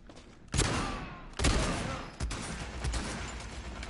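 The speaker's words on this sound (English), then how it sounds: "By the way, it's an MG." Machine gun fire in the VR shooter Bravo Team, with loud, close bursts of shots echoing in a repeating rhythm and no talk.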